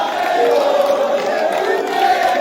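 A crowd of mining-town residents in Kalima, Maniema, gives the provincial governor a warm welcome, a steady dense roar of many voices and shouts at even loudness throughout.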